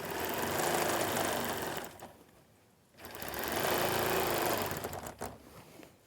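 A sewing machine stitches a quilt in two sustained runs of fast, even whirring with a brief pause between them, then slows and stops near the end; no talking.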